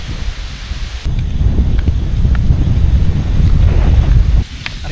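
Strong seaside wind buffets the microphone in a loud, rumbling roar that surges for several seconds before dropping back, with no voices present.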